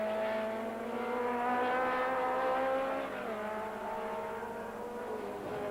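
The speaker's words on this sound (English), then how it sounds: "Obviously has a fair margin in hand over the Russell Norden car." Race cars at Sandown circuit in 1980, a sustained engine whine with rising and falling pitch as cars drive past, fairly distant and steady, without talk.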